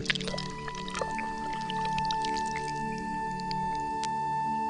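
Water poured from a clay pot to give a hawk a drink in a cartoon, a soft steady splashing with small drips over a low hum, no voices.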